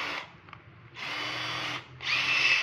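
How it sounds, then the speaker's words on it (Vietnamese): Cordless drill in hammer mode, heard as three loud rattling bursts of the motor and hammer action with short pauses between them and no talk. "Để cấp khoan anh em mới chuyển qua cấp búa."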